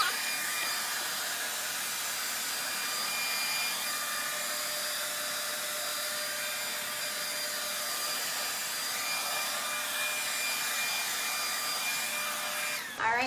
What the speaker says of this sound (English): Hit that real quick with my blow dryer.